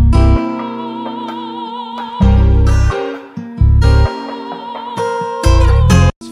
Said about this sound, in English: I recorded the guitar, and together with the sample, it sounds like this